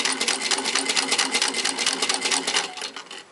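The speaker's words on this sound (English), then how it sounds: "Put my presser foot down, and I'm going to sew" Sewing machine stitching a patchwork star ornament, a close, loud, rapid rhythmic needle chatter running steadily before stopping abruptly near the end.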